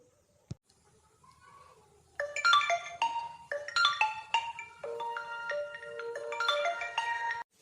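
A phone ringtone plays a bright electronic melody of repeating tones after a short click, continuing steadily for several seconds with no voices.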